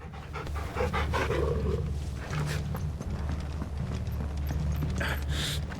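Torgal, the dog companion in Final Fantasy XVI, pants steadily over a clopping of horse hooves and footsteps, with faint game ambience and no speech.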